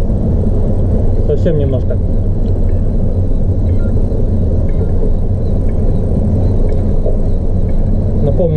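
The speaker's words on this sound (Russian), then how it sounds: "Тем временем сегодня немножко задувает." Wind gusts buffet the microphone high up on a building nearing completion, as ventilation is installed on the roof, making a steady, loud low rumble throughout while a person speaks briefly over it.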